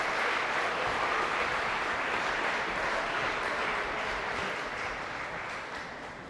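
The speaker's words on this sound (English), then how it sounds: "another round of applause for our students participating and receiving recognition with band" A school moving-up ceremony crowd gives a round of applause for students recognized for band, a full, dense roar of many clapping hands that holds steady and slowly fades over about six seconds.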